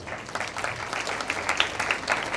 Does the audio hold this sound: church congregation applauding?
yes